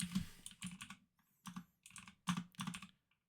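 Close, loud clacking of a computer keyboard, bursts of rapid keystrokes separated by short pauses, each key hit crisp and distinct with no talking over it.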